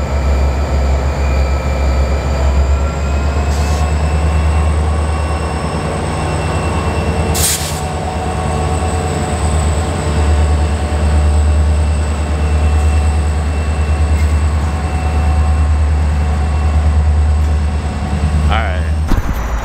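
A train locomotive engine winds up during a railfanning stop in Akron, Ohio, a loud steady low rumble with rising tones and wheel squeal continuing for the whole stretch, close by, with occasional talk over it.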